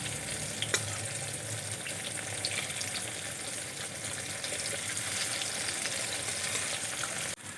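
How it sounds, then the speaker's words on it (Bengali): Plantain slices frying in hot oil give a steady, close sizzle with crackling spatters that runs the whole time, cutting off sharply just before the end, with no voices. "আমি এখানে কলা আর আলু আলাদা করে ভেজে নিচ্ছি।"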